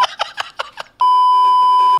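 A censor beep: one loud, steady electronic tone about a second long. It cuts in right after brief bursts of fast speech.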